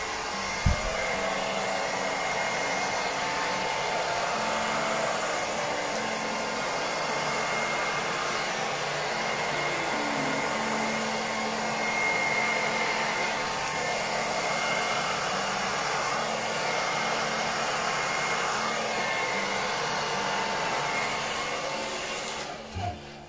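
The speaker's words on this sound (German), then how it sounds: "Jetzt normaler Föhn. Jetzt versuchen wir das ein bisschen zu verpusten." A regular hair dryer blows steadily across poured acrylic paint in a cup-pour craft setup, a continuous loud whooshing roar that holds nearly unchanged for over twenty seconds with no talking.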